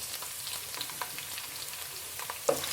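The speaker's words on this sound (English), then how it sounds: "Then I'm going to fry a little bit till golden brown" Shallots frying in hot oil after garlic for homemade green curry paste, a dense close sizzle with soft stirring scrapes and one brief louder knock near the end.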